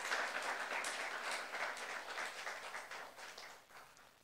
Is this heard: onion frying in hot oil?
no